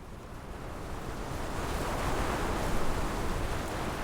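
Ocean waves in the game Love and Deepspace roll in a steady broad wash of surf, swelling slightly louder midway, alone with no voices.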